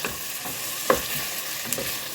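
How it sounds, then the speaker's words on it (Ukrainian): Vegetables, including grated ones, sizzle steadily in a hot pan while frying for a summer young-cabbage soup, with a couple of brief scraping knocks as they are stirred. "Перемішую і продовжую смажити приблизно 3-4 хвилинки"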